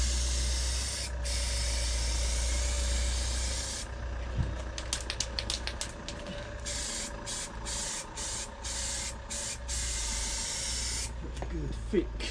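An aerosol hisses as silver paint and lacquer are sprayed onto a Sprinter campervan sill, a long steady spray followed by a run of short bursts and another sustained spray, close by.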